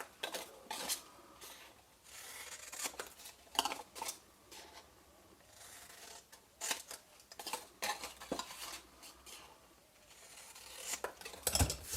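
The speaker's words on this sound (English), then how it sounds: "So I shall come along and snip those away." Scissors snip the outer corners off decorative patterned paper for a craft picnic basket, giving a quiet string of crisp, close cuts and small rustles with short pauses between them.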